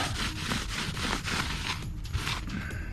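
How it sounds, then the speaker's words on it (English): Cleaning the brake rotor of a 2019 Honda CB500X motorcycle before new pads go on gives a close, continuous scrubbing and rubbing rasp with rhythmic wiping strokes, and no speech over it. "I'm going to clean the rotor before I put the new brake pads on."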